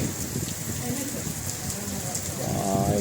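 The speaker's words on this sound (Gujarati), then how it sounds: "જો મિત્રો કેવો વરસાદ આવે છે" Steady rain falling during a summer downpour, a dense close hiss of drops hitting surfaces, with a voice speaking briefly near the end.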